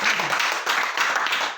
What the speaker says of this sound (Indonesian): Dan berikan tepuk tangan.